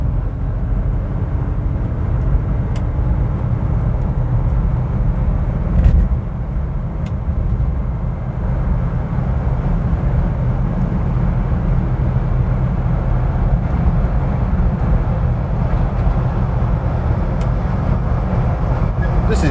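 A 1959 Vauxhall Velox PA cruising on a motorway, the Preston bypass now part of the M6, alongside trucks: a steady, loud low engine and road rumble from inside the car, unbroken throughout, with no talking.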